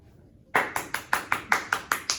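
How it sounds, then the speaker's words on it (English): Crisp, evenly spaced claps in a quick steady rhythm, about nine in a row, close and loud after a brief quiet start. "I'll add a clap track there."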